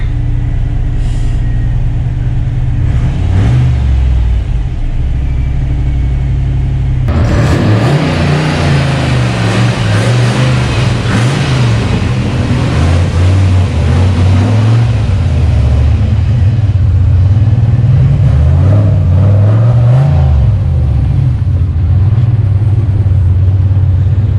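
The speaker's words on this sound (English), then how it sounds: "I'm letting the clutch out easy." A car with a T5 manual transmission idles with a low rumble, then pulls away as the clutch is let out, its engine drone rising and falling through gentle acceleration.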